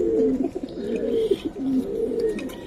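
Giribaz pigeon cooing up close, a continuous run of low throaty rolling coos with slight swells in loudness, no talking over it.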